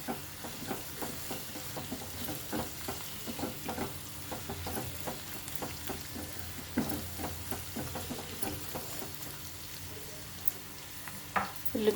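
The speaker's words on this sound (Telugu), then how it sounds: "ఉల్లిపాయ బాగా వేగాలండి." Chopped onions and green chillies sizzle and fry in a pan for a curry of prawns and sorrel leaves, a steady crackling hiss broken by irregular stirring scrapes and soft clinks.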